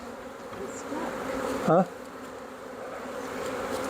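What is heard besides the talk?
swarm of honeybees buzzing at hive box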